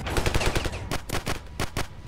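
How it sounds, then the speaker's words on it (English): Pistol shots in the video game Ravenfield, a quick run of sharp, loud cracks in uneven bursts with short pauses between, heard alone without talking. "I just got a pretty good shot with this pistol on that guy"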